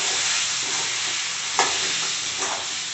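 Crab gravy is stirred in a pan over steady frying sizzle, with a utensil scraping and clinking against the pan, close and continuous with no talking.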